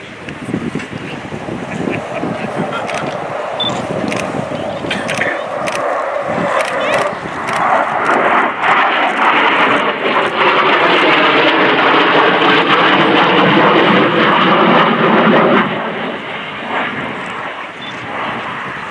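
A MiG-29 Fulcrum jet in a flying display at an air show, its engine roar loud and continuous, swelling and shifting in pitch as it passes, with wind noise on the microphone.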